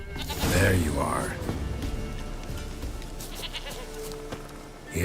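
A goat in The Witcher 3 gives a loud, close bleat near the start, and someone speaks around it.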